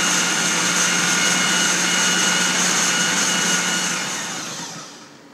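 A blender grinds boiled chickpeas with a splash of their cooking water into hummus, a steady loud whirring roar that holds for several seconds and then winds down at the end, with no talking.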